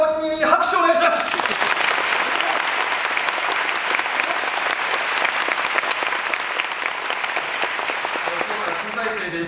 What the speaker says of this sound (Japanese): カンパニーの皆様に拍手をお願いします。